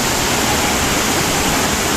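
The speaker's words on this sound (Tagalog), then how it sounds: "So, mayroong mga maliliit na falls dyan" A small waterfall at Mag-Aso Falls gives a loud, steady, close rush of splashing water that fills the whole moment without pause.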